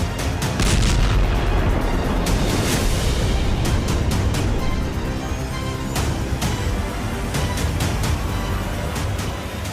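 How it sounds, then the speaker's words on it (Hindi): Rumbling booms and sharp blasts from a Russian tugboat exploding in the Black Sea repeat over a dense, roaring wash of noise, loud and continuous throughout. "जोरदार धमाके के साथ आसमान में बारूदी गुबार उठने लगा"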